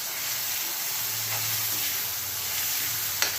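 Chili masala sizzles steadily in a hot pan of frying onions, a continuous close hiss with a faint clink near the end and no one talking.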